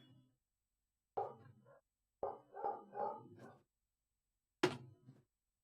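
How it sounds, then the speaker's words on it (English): Dogs barking in short bursts, a single bark, then a quick run of several barks, then one sharp loud bark after a pause, somewhat distant against near silence. "Oh my god, stupid dogs."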